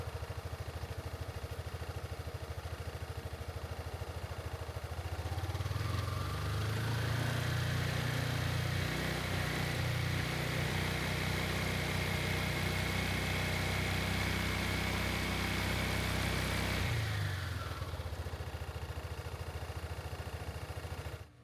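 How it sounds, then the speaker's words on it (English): A Honda Forza 300 (NSS300) scooter engine idles steadily nearby while warming up before a gear oil change, a continuous even hum that holds for about seventeen seconds and then cuts off as it shuts down. "So I started the bike, and all I'm trying to do is getting this to warm up"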